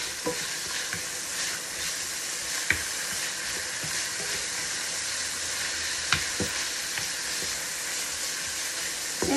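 Green beans (sitaw) fry in hot oil in a pan, a steady bright sizzle with occasional stirring clatters and light knocks.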